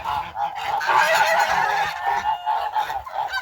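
Geese honking loudly and close by on a farm, a busy overlapping chorus of calls that continues without a break.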